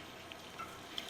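Margarine and a splash of oil melt in a hot pan before scrambled eggs go in, giving a faint, steady sizzle with tiny crackles and pops over roughly a second.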